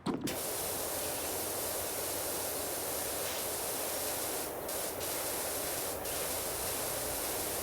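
Power washer blasting a steady, loud broadband spray throughout, with a brief burst at the start and small dips and hitches in the stream along the way.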